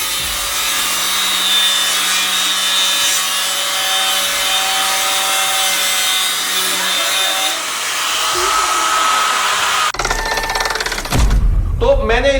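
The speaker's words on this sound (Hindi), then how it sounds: "मैंने ग्राइंडर ले लिया है और अब देखते हैं कि ग्राइंडर से किस तरह कटता है।" A grinder cuts into the metal frame of a Jolywood 620W solar panel, a steady loud abrasive whine with harsh rasping texture that runs continuously, then breaks into rougher, more uneven scraping near the end.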